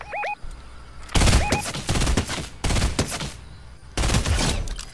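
Gunfire crackles in Fortnite in four sharp, loud bursts of rapid shots with brief pauses between them, plus a couple of small electronic chirps in the gaps.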